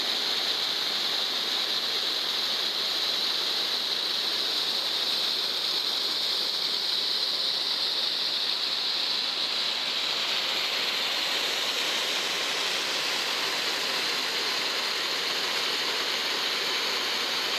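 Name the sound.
water flowing out of a pipe in a canyon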